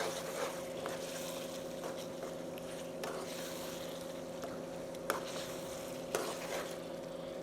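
Chicken drumsticks are added to a Chettinad masala in a pan and stirred, giving a steady sizzle with a few sharp spoon scrapes and knocks against the pan.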